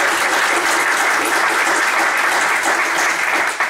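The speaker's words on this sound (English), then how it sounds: "join me in giving him a round of applause" An audience at a local Republican party meeting claps in a continuous, even round of applause, loud and close, holding steady until it fades slightly at the very end.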